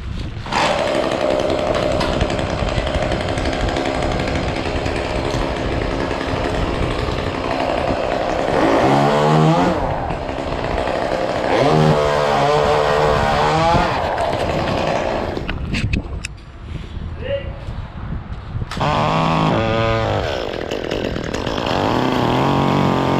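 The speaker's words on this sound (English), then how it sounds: "we're taking this out and then we're gonna grind the stump." A stump grinder chews into an Ailanthus tree stump, its loud engine droning steadily with repeated rising and falling revs as the cutter bites, briefly easing off before surging again.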